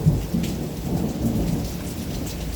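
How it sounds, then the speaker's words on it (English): A thunderstorm with heavy rain: steady pouring rain drums on a surface while low rolling thunder rumbles underneath, continuous and fairly loud, with no one speaking. "Wow. Nice storm."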